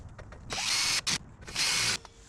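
A power drill tightens bolts on new Prinsu ridgeline handles fitted to a 2020 Toyota Tacoma TRD Pro, giving two sustained whirring bursts with a short blip between them, loud and close, with no talking.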